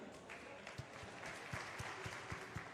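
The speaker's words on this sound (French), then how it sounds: "que je vous demande d'applaudir s'il vous plaît" Audience applause for an invited author at a literary café during a book festival in Conakry, a steady patter of clapping with a few sharper claps standing out, fairly close and continuous throughout.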